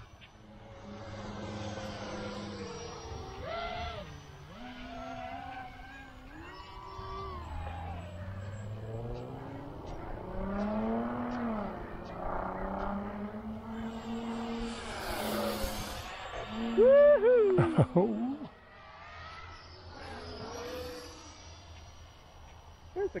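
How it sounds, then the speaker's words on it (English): An FMS 64mm F-16 Fighting Falcon model jet flies on its maiden flight, its quiet electric ducted-fan engine rising and falling in pitch as it passes, steady and moderately loud, with people talking and cheering over it. "It's a quiet engine."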